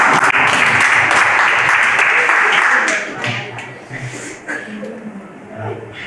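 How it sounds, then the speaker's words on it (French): Audience applause at a Benin textile industry panel, a dense burst of clapping for about three seconds that then fades out into scattered claps and murmuring voices. "J'ai envie d'applaudir pour Kaléda qui commence à parler"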